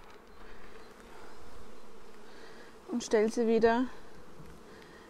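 Honey bees buzz around a Bienenkiste hive in a soft, continuous drone. Someone briefly speaks German over it midway.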